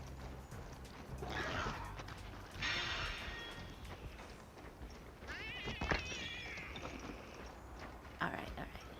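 A cat meows several times in Monster Hunter Wilds, drawn-out cries rising and falling, fairly close, mixed with hoofbeat-like game sounds and a voice speaking in between.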